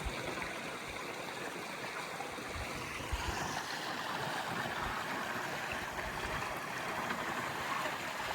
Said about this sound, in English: Running downwind. A little bit of a following sea.